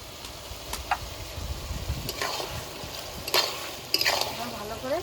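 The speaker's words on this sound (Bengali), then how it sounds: "বাটা লঙ্কাটা দিয়ে নেড়ে চেড়ে নেব হলুদ গুঁড়ো দিয়ে দেবো" Chili paste and turmeric powder being stirred in a hot pan, with a soft background sizzle broken by several sharp spoon scrapes and clinks at irregular intervals.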